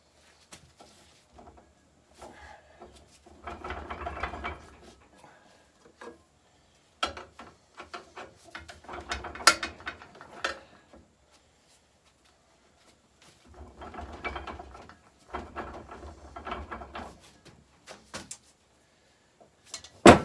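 Bolts being unscrewed from a 1966 Gravely Commercial 10A walk-behind tractor in a shed during engine removal: close bursts of metallic clicking, scraping and clanking separated by short pauses.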